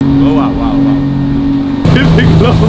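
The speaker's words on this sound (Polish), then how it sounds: "Siedzimy na łódce i mamy płynąć 15 minut" A motorboat carries passengers across windy, choppy water, its engine holding a steady loud drone throughout with a shift in pitch near the end, while people talk over it.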